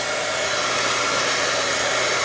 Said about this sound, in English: I'm going to use the blow dryer on here for just a second.